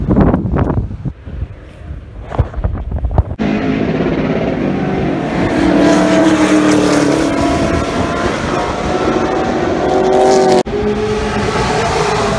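Race cars practicing at New Smyrna Speedway roar past in a sustained loud engine drone with shifting pitch, buffeted by heavy wind noise on the microphone, after a few seconds of quieter, choppier sound.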